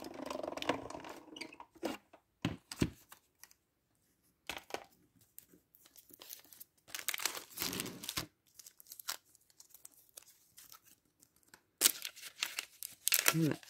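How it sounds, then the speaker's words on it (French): Intermittent whirring and scraping bursts from an electronic cutting machine cutting tracing paper, separated by quiet gaps, with some crinkling of the thin paper in between. "Donc, je passe dans ma machine de découpe."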